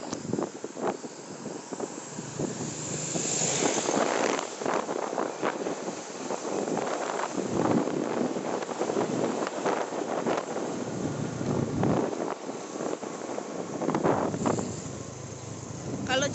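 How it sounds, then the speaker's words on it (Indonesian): Continuous buffeting wind noise from riding a motorcycle on an afternoon trip through a village, steady and loud throughout with a voice talking over it at times. "Kita jalan-jalannya naik motor."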